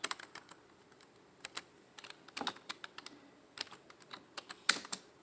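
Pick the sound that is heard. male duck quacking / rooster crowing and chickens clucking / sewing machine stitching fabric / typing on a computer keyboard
typing on a computer keyboard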